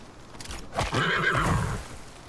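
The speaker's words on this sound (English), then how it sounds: "It's absurd how many horses were in this area. A whole herd of them." A horse whinnies in the Icarus survival video game, a loud drawn-out neigh with faint hoof clip-clop, in an area holding a whole herd of horses.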